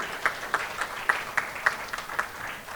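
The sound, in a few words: audience applause for volunteers at a panel event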